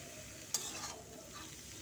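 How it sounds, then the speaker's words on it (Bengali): Polta vegetables and a handful of shrimp are stirred in a pan, giving one soft scrape over a faint, steady sizzle. "এই সবজিটা দেওয়ার পরে আমি ভালো করে উল্টিয়ে পাল্টিয়ে একটু নেড়ে চেড়ে নেব"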